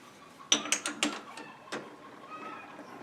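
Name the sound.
unchucking a workpiece from a lathe's 3-jaw chuck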